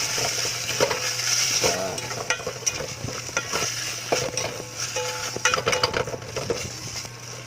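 Young coconut sautéing in oil in a cooking pot, with steady stirring, scraping and clinks of a utensil against the metal over a continuous close sizzle.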